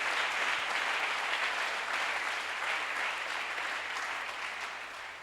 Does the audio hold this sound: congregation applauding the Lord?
yes